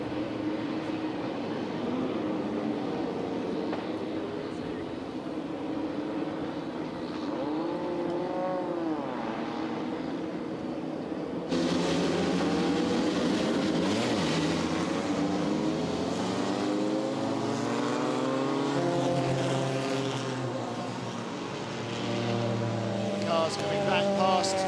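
Formula 2 race cars at Brands Hatch drive back to the grid, their engines droning and rising in pitch as they pass, under continuous commentary.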